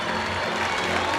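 An audience at the University of Fort Hare centenary celebrations applauds. It is a continuous wash of clapping and crowd noise at moderate volume that blends into a general hall murmur.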